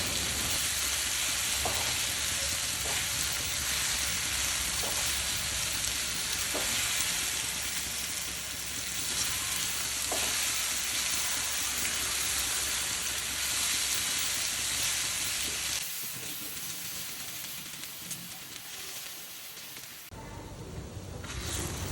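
Banana pieces fry in ghee with a constant, close sizzle and occasional stirring scrapes, the hiss thinning toward the end as the heat drops.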